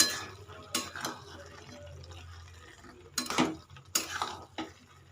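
A spoon stirs sugar into a vegetarian banana flower curry in a pan, giving a few distinct scraping knocks against the pan over quiet background, with faint voices now and then.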